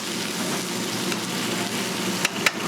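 Roasted confit garlic being stirred in a hot pan, a steady close sizzle with a few brief scraping clicks near the end.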